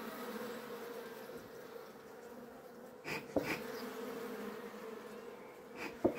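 Honeybees hum in a steady, dense drone during a hive inspection, close and continuous, with a few louder buzzes as individual bees fly past near the end.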